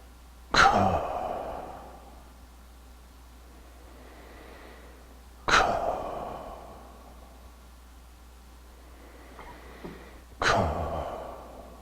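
Three long, audible exhales during a chi gung kidney-breath exercise, each a breathy sigh-like rush that fades slowly, spaced about five seconds apart with quiet room tone between.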